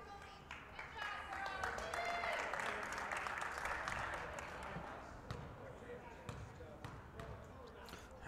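Crowd applause at a girls high school basketball holiday tournament, a swell of clapping in the gym that builds and tapers, with an announcer talking and sneakers and ball sounds faintly underneath.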